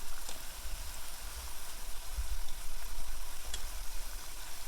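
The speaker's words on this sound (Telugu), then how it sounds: "సన్నపు సెగలో వేయించుకోవాలి" Kaja, a layered Andhra sweet pastry, frying in oil over a low flame, giving a steady soft sizzle and gentle bubbling throughout with no talk.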